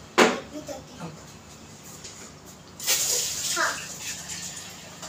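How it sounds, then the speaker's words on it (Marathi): Water is poured into a cooking pot of Konkani-style palak katli, a spinach and dal dish, giving a couple of short splashing gushes with someone speaking between and over them. "तर मी आता थोडंसं पाणी घालते याच्यामध्ये"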